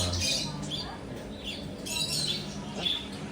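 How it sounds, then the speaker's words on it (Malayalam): Several sharp bird squawks, like a parrot, ring out over a busy, noisy background, with bright chirps scattered through the few seconds. "തത്ത."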